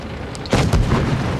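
A tank cannon fires in the video game World of Tanks Blitz, a single deep, heavy boom with a short rumbling tail that stands alone with no voice over it.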